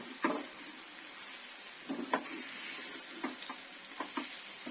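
Garlic chili powder being stirred into bitter gourd frying in oil, a steady close sizzle with several scraping spoon strokes against the pan.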